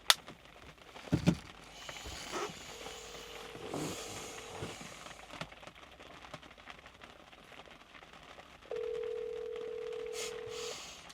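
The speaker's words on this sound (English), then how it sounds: "I'm calling Rob James." Phone dialing to place a call during a real estate agent's workday, with a short burst of quick button beeps and then two steady tones, each held for a couple of seconds, over a quiet background.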